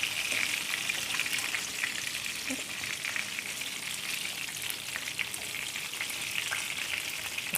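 Chicken seekh kebabs frying in a pan over medium-low heat give a steady, close sizzle with fine crackling pops throughout and no speech.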